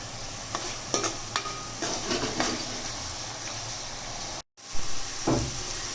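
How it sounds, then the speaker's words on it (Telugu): Ginger garlic paste frying with onions in a pan for fish curry, a steady close sizzle with stirring scrapes, broken briefly by a short gap of silence near the end. "అల్లం వెల్లుల్లి పేస్ట్, వేసుకొని శుభ్రంగా వేయించుకోవాలి."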